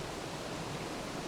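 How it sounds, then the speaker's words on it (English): Waterfall pouring into a pool, a dense, steady broadband rush of falling water, close and even with no other sounds. "You have reached the bottom of the waterfall pool."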